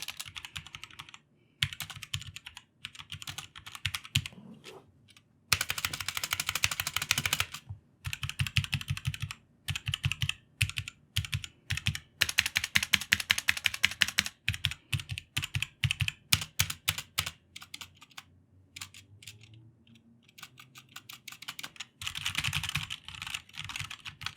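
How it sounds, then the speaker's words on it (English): Rapid key presses on a Motospeed K87S keyboard fitted with Cherry MX Red switches, close and clear, coming in quick bursts of clacking with short pauses between runs and no voices. "I'll go ahead and give you guys a sound test now so you can get an idea of what the Red Switches sound like on this keyboard."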